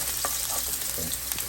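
Thinly sliced carrots hiss and sizzle in a hot frying pan for curry chickpeas. A steady, close frying crackle runs the whole time, and a few soft clinks and stirring knocks rise above it.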